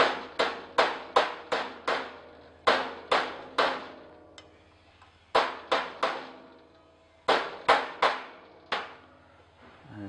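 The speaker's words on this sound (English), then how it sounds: "If it's coming up one side, you tap that side, just keep tapping it in." A part is tapped into place during an electric winch repair, with sharp, ringing metallic taps that come in quick clusters of three to five, each decaying briefly, with short pauses between groups.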